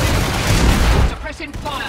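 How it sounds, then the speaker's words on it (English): Warframe mortar fire in the Profit Taker fight comes as a loud, dense barrage of blasts that drops off after a second, leaving quieter battle noise behind. "I've only got a few mortars left. Firing them all."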